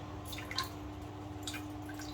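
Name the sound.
whey dripping from drained paneer in muslin cloth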